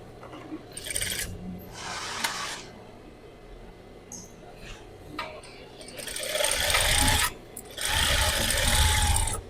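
A domestic sewing machine stitches a dress seam in short bursts, with quiet pauses and handling noises between runs and a longer steady stretch near the end; someone speaks briefly in the gaps.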